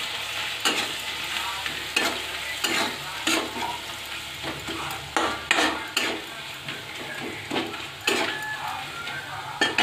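Onion frying in a pan with turmeric and chili powder added, a steady sizzle broken by repeated scraping stirs at a fairly even rhythm, close and moderately loud, with no talking.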